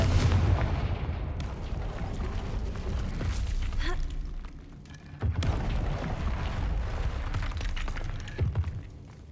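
Confringo fire spell blasts in the Hogwarts Legacy video game, loud booming explosions with crackling debris running nearly continuously, with a sharp break near the middle before a fresh burst resumes.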